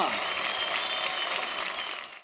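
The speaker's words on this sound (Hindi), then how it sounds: "जोरदार तालियां।" Awards show audience applauding loudly at the Filmfare Awards 2019, a dense sustained wash of many hands clapping that carries on steadily before cutting off at the end.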